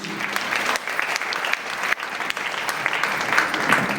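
An audience claps loudly in a hall after a business plan presentation, steady dense applause lasting the whole stretch with no talk over it.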